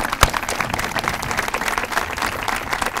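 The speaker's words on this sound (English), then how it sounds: "Let us give you a round of applause." At a groundbreaking for a student services building, the crowd claps for the student services staff. The lively round of applause has crisp individual claps popping out near the start, and the clapping stays fairly close and steady throughout.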